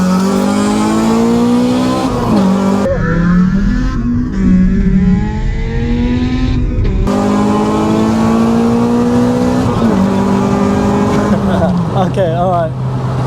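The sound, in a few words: Honda Civic EP3 Type R racing Audi Q3 TFSI, accelerating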